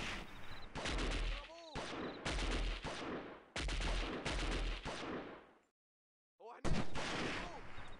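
Gunfire in the Delta Force video game, with loud bursts of automatic fire in several long volleys broken by short gaps and one brief silence before shooting resumes.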